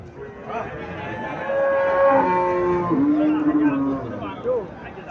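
A Holstein Friesian cow at a busy cattle market lets out a long, wavering moo that rises and then drops in pitch, close by over a constant crowd murmur and people talking.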